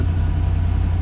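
A 1964 Chevrolet Corvette engine idles steadily near 1,500 rpm with a low, continuous rumble, close and fairly loud, with no voices.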